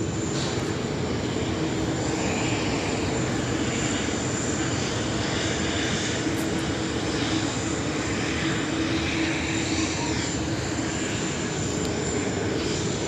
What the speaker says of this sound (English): I think this might be Sichuan. A330-200. Here we go, the Sichuan.